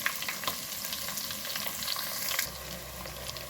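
Garlic, ginger and chopped onion frying in oil for a kontai fish curry, a steady close sizzle with soft stirring scrapes, dropping to a quieter, calmer hiss near the end.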